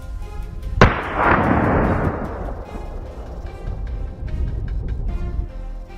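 A single sharp, loud gunshot during a large-scale wild boar hunt, its blast rolling off into a long fading echo over open ground.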